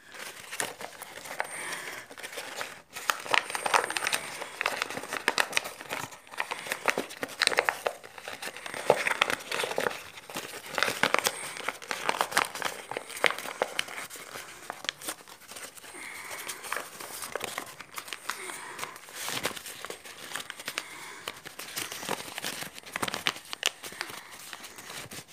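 Paper is folded and creased into an origami Recusant-class star dreadnought, producing repeated crinkling, rustling and crisp creasing sounds close up, irregular and fairly quiet over the whole stretch.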